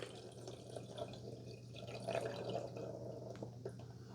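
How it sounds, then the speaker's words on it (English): Water is poured into the reservoir of a Hamilton Beach 49974 FlexBrew single-serve coffee maker, a soft steady trickle and splash running throughout at moderate level, close by. "Each time you got to dump your water in."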